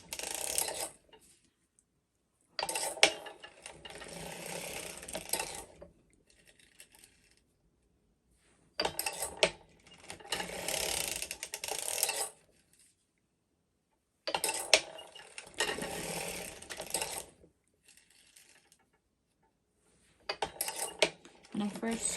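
A hand-cranked circular sock knitting machine clatters through short rows, with bursts of mechanical ratcheting and clicking separated by quiet gaps of a couple of seconds, close and moderately loud.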